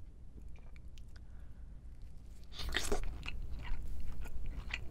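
Someone eats Hanasaki king crab meat up close, with soft squishy chewing that turns into a denser burst of wet crunchy bites partway through, quiet and with no talk.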